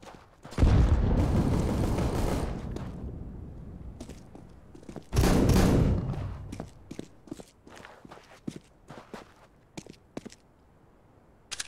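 A grenade blast and gunfire in the video game CS:GO: two long, loud, roaring bursts a few seconds apart, followed by scattered sharp clicks and footstep-like taps.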